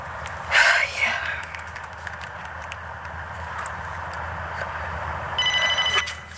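A telephone rings out while a house is being called, a brief electronic ring heard near the start and again at the end, faint against quiet room tone with a voice speaking softly.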